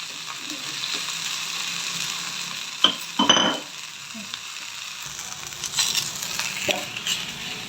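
Green turkey berries sauté in oil in a pan for kuzhambu. A steady frying sizzle runs throughout, broken by a few sharp scrapes and clatters of a stirring spoon, with no voices.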